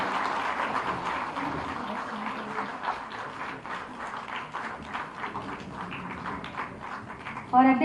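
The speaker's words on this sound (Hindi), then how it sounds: "तालियां बजाते रहिए।" Steady audience applause at a ceremony welcoming the Chief Minister, a continuous mass of clapping under a murmur of voices that carries on throughout.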